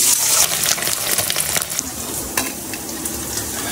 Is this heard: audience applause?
no